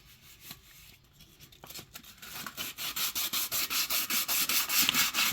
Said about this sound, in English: And then we take wet sanding paper and just kind of